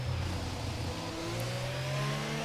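Formula 1 car engine from the F1 22 video game cruising after a race in Canada, a steady whining drone with rising pitch, alone and moderately loud.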